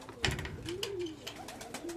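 Zagłębie tippler pigeons moving about inside a loft give a few soft, close coos over a low rustling background, with one brief sharper sound near the start.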